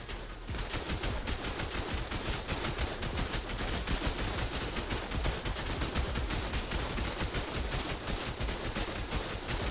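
In a raid on a server, game turrets fire at an attacking golem in a continuous rapid barrage of gunfire, loud and dense from start to finish with no pauses.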